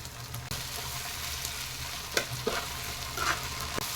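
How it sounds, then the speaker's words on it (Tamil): Chopped onions and tomatoes sauté in a pan for a chicken gravy, a steady close sizzle punctuated by a few sharp scrapes and taps of a stirring spoon. "தக்காளி வந்து நல்லா சாஃப்ட் ஆகிற வரைக்கும் நல்லா வதக்கிக்கோங்க."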